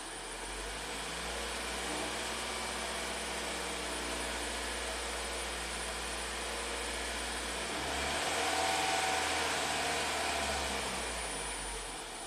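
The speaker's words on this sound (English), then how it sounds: "So I'm going to slowly raise the RPMs," A Ford EcoBoost engine with a suspected P0106 fault runs steadily with a broad, loud whooshing hum that swells gradually as the revs are slowly raised, then eases back slightly.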